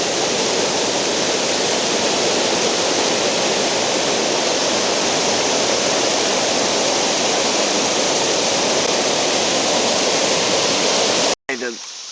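Pigeon Creek in Alabama churning over a limestone ledge, a loud, steady roar of rushing, boiling water heard up close throughout, cut by a brief dropout near the end.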